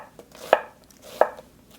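A kitchen knife slices thinly across a halved onion on a cutting board, making two crisp, separate cuts about two-thirds of a second apart, close and clear with no voices.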